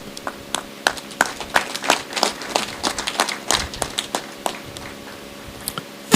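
Scattered, uneven handclaps from an audience at a regional tourism expo as team members rise, sparse individual claps rather than a full roar, with a louder burst at the very end.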